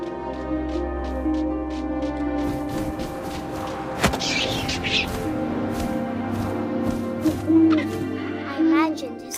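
Soft owl hoots play out over wind and an ambient musical bed in What Remains of Edith Finch, the sound mid-distance and gentle, broken by a sharp thump partway through and a few later accents.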